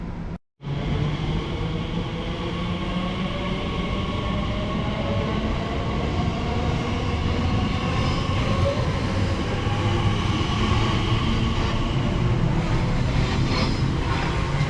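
A TfL Rail train pulls out of West Ealing station, a steady continuous rumble of wheels and traction running close by with faint squeals on top, no talking.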